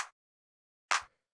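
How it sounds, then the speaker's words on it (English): Two tight, sharp house-style clap hits sound alone with silence between them. Each is short and bright, the second a bit fuller and with more low end. "This is pretty simple, just kind of like a tight, sharp, kind of housey clap"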